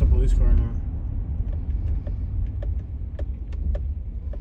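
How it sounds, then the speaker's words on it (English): A regular car passes on a night street in East St Louis, a low steady engine rumble with a brief louder swell at the start. A short burst of voice comes right at the opening. "Just a regular car, and he did not stop."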